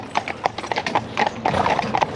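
Several horses' hooves clip-clop on a road during basic exercise, a steady overlapping rhythm of hard knocks, fairly close and prominent throughout, with no talk over it.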